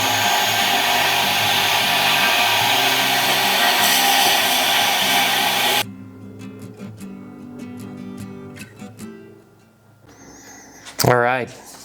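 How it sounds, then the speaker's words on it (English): A loud power drill whirs steadily for several seconds while drilling a pin hole in a knife handle, then stops, followed by clicks and handling noises and a brief rising whine near the end. "I'm going to drill this one on this side first"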